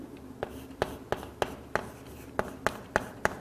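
Writing on a board during a biology lecture makes a close series of crisp taps and short strokes, about ten in a loose, steady rhythm, with no voice over them.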